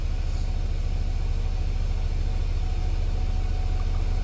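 A car engine idles steadily while warming up during a diagnostic check, producing an even low rumble with a regular pulse, continuous and close, with no voices.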